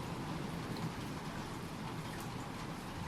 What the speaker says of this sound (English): The rain starts up again